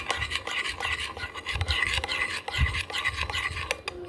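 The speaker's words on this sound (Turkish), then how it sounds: "İki malzemeyi güzelce bir karıştırıyorum." Two slime ingredients being stirred together, a close scraping and rubbing with repeated soft strokes and occasional light knocks against the container, steady throughout.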